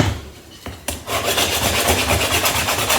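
Sandpaper rubs back and forth over a new piece of a wooden Jacob's ladder toy, a close, rhythmic gritty rasping that starts after a couple of knocks and keeps an even stroke.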